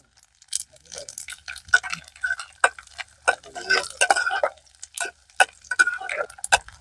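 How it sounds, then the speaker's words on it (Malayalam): Cashews, coconut pieces and raisins frying in ghee in a pan for a sweet payasam, with irregular spoon scrapes and clicks against the metal over a soft, faint sizzle, fairly close. "നല്ല ബ്രൗൺ കളർ ആയിട്ട് എല്ലാം കൂടി വറുത്തിട്ട്"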